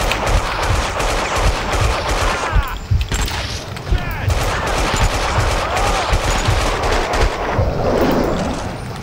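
Gunfire and explosions in the video game Max Payne 2, dense rattling shots and booms overlapping throughout at high loudness, with a voice talking loosely over the chaos.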